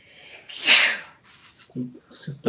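A woman sneezes once in the background, a sharp breathy burst followed by short sniffs and a few muffled voice sounds.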